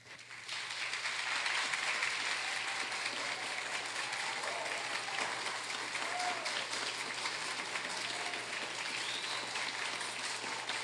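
An audience in a legislative session applauds steadily, a dense, even clapping that rises quickly and holds for about ten seconds, heard from a moderate distance.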